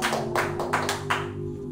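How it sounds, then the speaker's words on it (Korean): Audience at a Korean traditional folk singing performance of Arirang claps in a slow, even rhythm, about five distinct claps close by over a steady tonal hum. "박수! 박수!"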